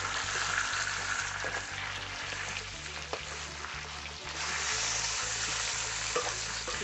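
Chicken pieces fry with ground spice paste in a pan, a loud continuous sizzle close by with stirring scrapes, under a low rhythmic background hum.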